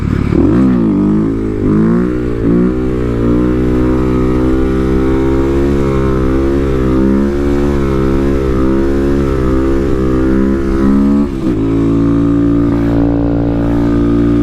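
A Kawasaki KLX250SF supermoto motorcycle engine pulls hard in third gear, its loud, close drone climbing in pitch for about eleven seconds before a brief dip and a renewed, steady pull.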